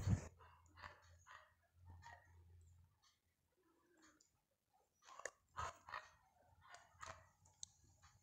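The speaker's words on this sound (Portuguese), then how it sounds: "Cachorrinho." Puppy barks from the Roblox video game: a sharp yap at the start, then a cluster of small yips a few seconds later, all fairly faint.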